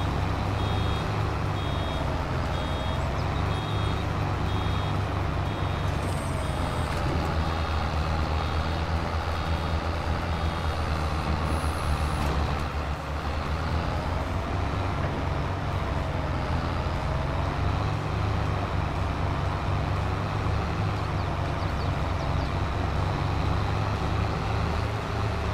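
A truck in the Farming Simulator 22 video game, with a steady engine drone and repeated reversing beeps running continuously throughout at a constant level.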